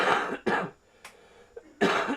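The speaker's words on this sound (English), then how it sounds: "I'm going to have to mute myself and cough a little more." A person coughs in a series of harsh, close bursts, with a pause in the middle and a softer throat sound before a final loud cough, during a football video game session.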